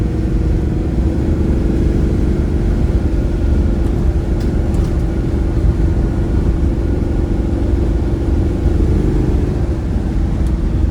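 A restored 1971 Oldsmobile Cutlass 442 W-30 with a 455 V8 cruises down the road at highway speed, giving a steady, loud engine drone and road roar with no break throughout.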